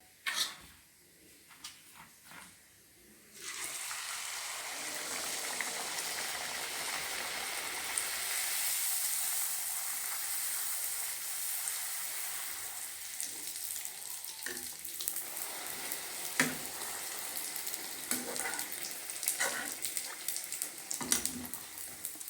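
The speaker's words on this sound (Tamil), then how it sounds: "நான் இன்னும் பொறிச்சிக்கிட்டே இருக்கிறேன்." Food frying in hot oil in a home kitchen: after a brief quieter start, a steady, close sizzling hiss runs throughout, with scattered small pops and crackles and no voices.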